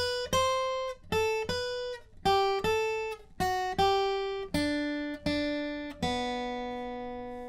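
A clean guitar lead riff of about a dozen plucked single notes, each ringing briefly before the next, played alone at a moderate pace.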